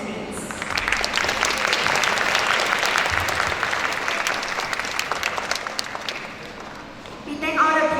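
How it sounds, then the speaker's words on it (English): Pupils and guests give warm applause at a school pep talk. Sustained, fairly loud clapping from many hands continues steadily and then eases off. A voice begins to speak just at the close. "A warm applause to them, please."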